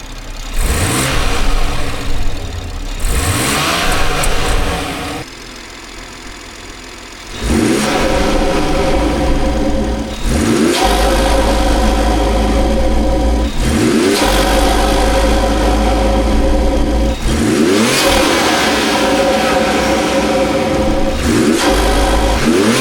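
A BMW G30 540i fitted with an aftermarket MAD intake revs loudly and close by. Its engine climbs and falls in a string of repeated throttle blips over a steady running drone, with no talking.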